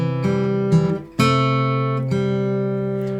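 Guitar chords from the introduction of the Eagles' Desperado, strummed and left to ring, with a few changes in quick succession before one chord sustains clearly on its own.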